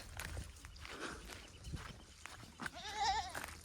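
Goats, including young kids, on a farm, with a single clear bleat near the end over soft shuffling hoof steps and faint background rustle.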